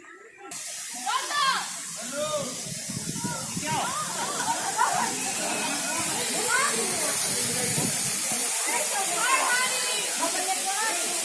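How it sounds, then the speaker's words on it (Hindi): Spring water flowing down from above on a hillside, a steady broadband rushing hiss that runs the whole time beneath continuous talking. "ये ऊपर से पानी नीचे की तरफ आ रहा है।"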